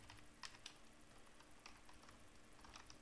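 Faint typing on a computer keyboard, a few sparse, soft key clicks scattered over a quiet background hum.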